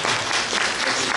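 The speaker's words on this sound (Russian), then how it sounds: "вы правильно аплодируете" Dense, loud applause from an audience at a film premiere, a brief burst of steady clapping heard up close.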